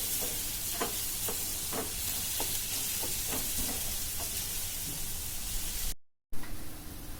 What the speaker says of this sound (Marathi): कांदा थोडा जास्त थोडा गुलाबी रंग येईपर्यंत शिजून घ्या